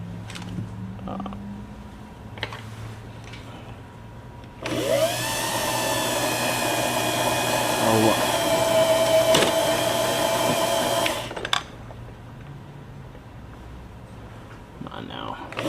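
The bobbin winder of a Singer 500A sewing machine, with a clutch that fails to release properly, runs as a steady whirring motor hum for about six seconds, with creaks and brief talk around it.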